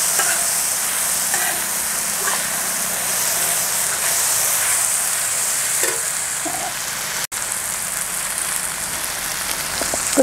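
Ginger and garlic dropped into oil in a pan after tomatoes in a Kerala village kitchen, giving a steady close sizzle and frying crackle throughout, with a single sharp knock partway through.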